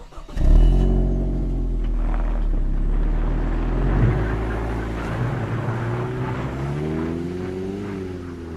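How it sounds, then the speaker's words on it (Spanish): A police patrol car drives away through a quiet village, its engine droning low and steady after a louder start, then rising slightly in pitch toward the end, with no talk. "Alphonse volvió a subir a su patrulla y se largó del lugar sin más"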